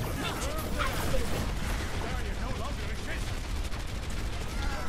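Rapid gunfire from the video game Overwatch crackles continuously in a busy, dense mix of repeated shots and impacts, with voices talking underneath throughout.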